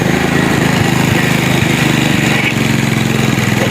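A motorcycle engine runs steadily close by, a loud, even, pulsing rumble with no other sounds.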